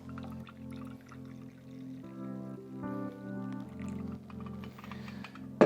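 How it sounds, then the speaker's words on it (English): Tea poured from a teapot into a cup that already holds a little milk, a steady close liquid trickle with a ringing tonal quality lasting several seconds, ending in a brief clink. "And then we pour in the tea."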